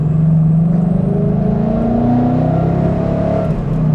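Procharged 2015 Mustang GT engine accelerating hard, a loud, close, rising roar with the engine note climbing steadily through the pull, no voices.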